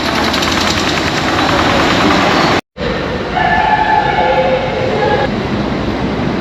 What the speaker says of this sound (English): one of the GO trains is just going westbound right now above me